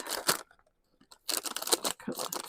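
Scissors snip through the top of a plastic packet holding craft materials, with a few sharp crisp cuts and crinkles separated by short quiet pauses, close and clear.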